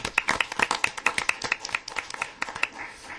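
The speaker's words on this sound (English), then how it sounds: "Let's give a round of applause for it." Scattered applause from a small group at a council meeting, individual sharp claps heard distinctly rather than as a roar, uneven in rhythm and thinning out near the end.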